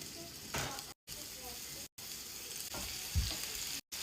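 Meatballs frying in a pan with oil: a soft, steady sizzle with faint crackles and a brief stirring bump, quiet and close, with the sound cutting out briefly a few times.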